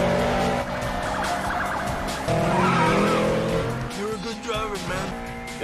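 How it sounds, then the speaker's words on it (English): Police cars chase through a scene from 2 Fast 2 Furious, with revving engines, squealing tires and siren wails rising and falling, while voices talk over the loud, busy action. "A lot of cop cars."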